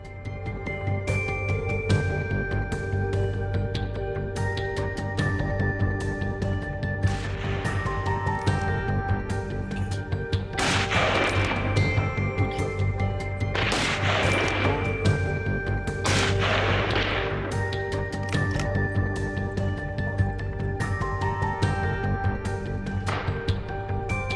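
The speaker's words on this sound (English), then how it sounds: "The gunshot echoed and the wild hog collapsed on the spot." Gunshots in a wild hog hunting video game, with several sharp booming shots at irregular intervals over a steady musical background, and no talking.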